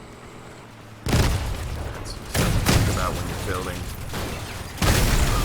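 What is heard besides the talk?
explosions in the video game Crossout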